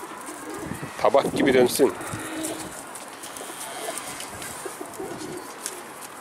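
Pigeons in a kept flock coo softly in a short, low burst while someone speaks over them, with faint background hum throughout.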